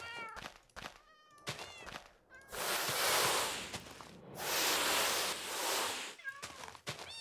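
Cats in the Minecraft video game meow and yowl in several loud, drawn-out calls, with harsh screeching bursts between shorter meows, heard alone without talk.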